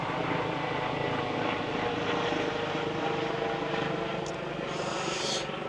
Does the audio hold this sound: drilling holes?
no